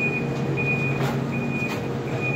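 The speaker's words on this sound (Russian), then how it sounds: "Вот КамАЗик подъехал. А, это он выгружается, ничего себе." A KamAZ truck unloading sunflower husks sounds a steady series of reversing beeps over its loud engine rumble, with no voices.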